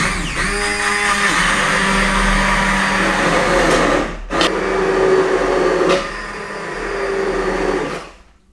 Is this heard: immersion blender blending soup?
yes